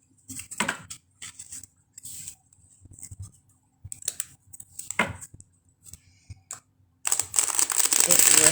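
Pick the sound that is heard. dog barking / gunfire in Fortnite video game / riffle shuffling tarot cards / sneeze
riffle shuffling tarot cards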